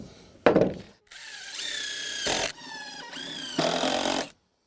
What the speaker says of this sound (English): we can pull out the jigsaw and trim this up